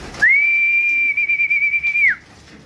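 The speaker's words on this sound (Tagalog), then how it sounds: "Sipol-sipol lang." A person whistles one long, steady, high note to call pigeons, starting sharply, holding with a slight rhythmic pulsing and ending with a short downward slide, loud and close with no talking.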